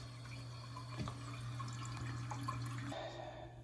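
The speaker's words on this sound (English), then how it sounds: "we'll let this fill up and then we'll do a flush test" A Mansfield toilet tank refills after a Fluidmaster universal kit install. Water rushes steadily and close by, then the sound shifts and eases near the end, with no talk.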